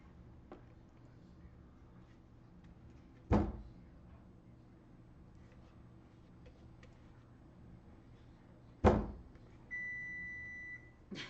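A kitchen timer sounds during potato sourdough baking: a steady electronic beep tone near the end, preceded by a couple of sharp knocks against a quiet room hum.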